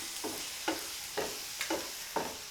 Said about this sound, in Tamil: இப்போ இதெல்லாம் நல்லா ஒன்றா மிக்ஸ் பண்ணி விட்டுடலாம்